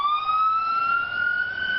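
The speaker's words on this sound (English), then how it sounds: "You know it for its award-winning life-saving ambulance service." Ambulance siren from the Jersey City Medical Center: a single loud, steady electronic tone that slowly climbs in pitch with faint harmonics above it, heard alone without voices.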